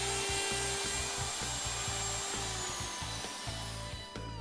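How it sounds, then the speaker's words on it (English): A power router cuts grooves through a board into a wooden beam, a loud continuous whining roar with rapid rhythmic chatter as the bit bites the wood. "Routing is then done straight in and out of each template opening"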